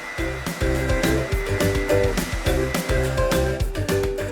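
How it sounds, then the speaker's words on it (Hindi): A blender whirs continuously and loudly, churning a mango milkshake with vanilla ice cream, its motor drone steady with a rhythmic thumping churn throughout. "और इसको भी अच्छे से एक बार ब्लेंड कर लेंगे।"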